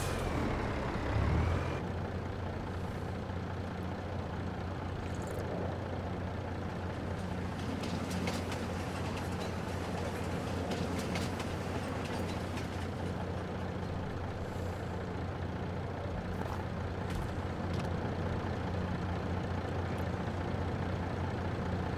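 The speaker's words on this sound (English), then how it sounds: "So what was that train that just went on through here?" A train rumbles steadily through a logging area in the Farm Sim video game, a constant low mechanical drone with a broad hiss on top and a few brief brake-like squeals, close and unbroken for the whole stretch with no talk.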